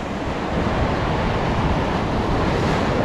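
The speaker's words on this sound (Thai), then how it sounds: "ผมต้องยืนไกลไกลฟังแน่นะครับเพราะว่าคลื่นมันตัดออกมามันอาจจะเปียกได้" Ocean surf crashes continuously onto a shore where people are out fishing, a loud, broad, unbroken wash of breaking waves with some wind rumble and no voices.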